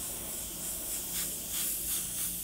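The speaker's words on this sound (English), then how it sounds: "from a distance, I'm just going to spray over that previous layer that we've just completed" Orange Createx illustration color paint sprayed from an airbrush at a distance, a steady soft hiss with gentle pulses as the spray passes repeatedly over an earlier layer on a fire design.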